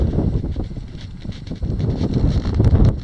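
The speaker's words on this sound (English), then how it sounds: "It's really windy, so you might get some wind noise." Gusty wind buffets the microphone outdoors at an old 1908 quicksilver mine, rumbling low and uneven with swells and brief rustles, loud and continuous with no talk.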